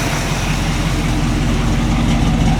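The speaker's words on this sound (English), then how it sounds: "Let's go ahead and listen to it out the exhaust here a second." A 1967 Chevy C10 pickup with dual side-exit exhaust and chrome tips idles with a deep, steady, pulsing rumble heard close at the tailpipe, alone without talk.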